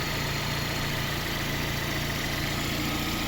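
A VAZ 2112 16-valve car engine idles steadily and evenly after a head gasket replacement, a constant low hum with a slight mechanical rattle and no other sounds.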